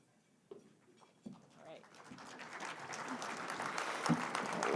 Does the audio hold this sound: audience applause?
yes